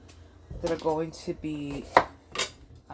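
Knife chopping peppers for sofrito on a board in a home kitchen: a handful of sharp, close chops at an uneven pace, mixed with brief tonal, voice-like sounds.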